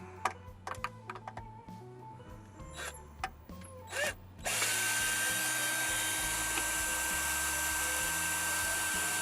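A cordless power drill whirs in short bursts as it backs out the four cover screws on an RV's Generac Primepact 66G generator, with clicks and handling noises between bursts, then a long steady high whine at the end.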